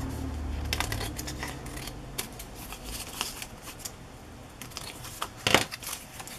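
Scissors trim a small paper tag for an owl-themed journal, with scattered light snips and rustling paper, close and quiet, without speech.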